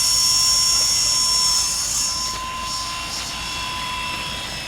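Small remote-control toy helicopter hovers and eases down to land, its high whining rotor and motor drone steady and close, gradually dropping in loudness.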